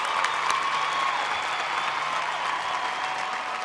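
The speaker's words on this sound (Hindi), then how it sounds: "जोरदार तालियां" A large crowd at a Bhojpuri film award show claps continuously, a dense, steady wash of applause throughout with no pauses.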